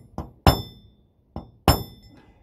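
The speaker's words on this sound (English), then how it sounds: "I'm going to try giving them a bang with a hammer, just to dislodge the threads" Hammer striking stuck screws on narrowboat plumbing to loosen seized threads: two pairs of sharp metallic taps, a lighter blow then a harder one each time, close and clear with no talk.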